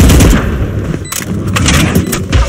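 A loud grenade blast in the Valorant shooter, a heavy boom with dense crackling bursts and rumble filling the short moment, close and powerful with no talk.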